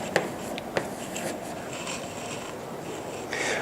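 Chalk taps and scratches on a classroom board, with two sharp knocks near the start and a short scraping stroke at the end, close and faint, with no voice.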